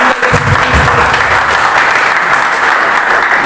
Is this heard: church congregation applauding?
yes